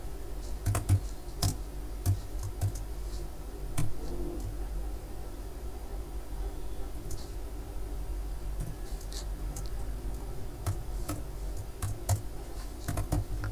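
Typing on a computer keyboard, with quick clusters of clicking keystrokes separated by short pauses. It sounds close and fairly quiet over a low background hum, with no voices.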